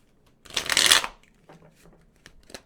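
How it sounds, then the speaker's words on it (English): A quick, loud riffle of shuffling tarot cards lasting about half a second, followed by a few soft taps and card sounds. "So we're gonna shuffle this again."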